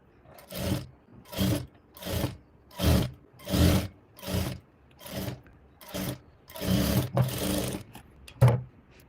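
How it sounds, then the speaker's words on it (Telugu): A sewing machine stitching a blouse shoulder seam, running in about a dozen short regular bursts of whirring, each starting and stopping, loud and close with no voices. "సో మిడిల్ పార్ట్ నుంచి పెట్టేసుకొని స్టిచ్ అనేది స్టార్ట్ చేసుకోవాలి"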